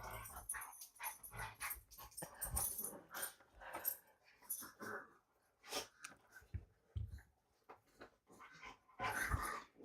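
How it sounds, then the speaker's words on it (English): Two small pet dogs, a pug among them, growling low and whimpering in the background, with snuffly breathing and irregular grumbles coming and going throughout, fairly close and unaccompanied by talk. "I don't know if you can hear them growling in the back"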